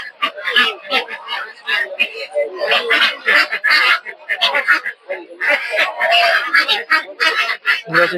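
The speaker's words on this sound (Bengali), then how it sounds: "এদিকে প্রচুর পরিমাণে হাঁস মুরগি আছে" Busy village market din of ducks, including Belgian ducks, quacking and chickens clucking close by, mixed with people talking over the birds.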